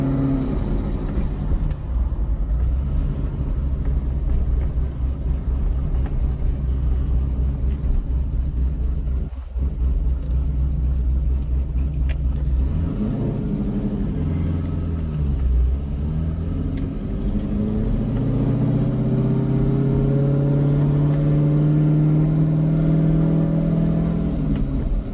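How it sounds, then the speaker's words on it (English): Cammed C6 Corvette V8 rumbling at low RPM while pulling slowly out of a neighborhood, a steady deep lope that swells into a rising rev toward the end, close and continuous with no talk. "it does quite well in the lower RPM range as I slowly and courteously leave my neighborhood"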